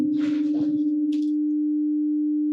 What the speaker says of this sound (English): So now we should be hearing a plane sine wave at 300 hertz